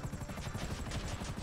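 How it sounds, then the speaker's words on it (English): A helicopter arrives, its rotor giving a steady low chopping pulse under a constant loud engine roar that fills the whole moment without a break. "It's a helicopter."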